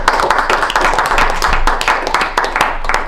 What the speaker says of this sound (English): A round of applause for our general evaluator